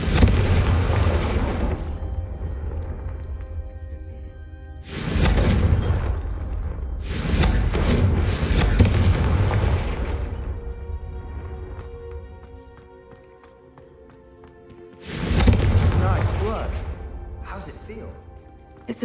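Confringo fire spells in Hogwarts Legacy burst in heavy booming blasts, three loud explosions with rumbling tails separated by quieter stretches where a character speaks.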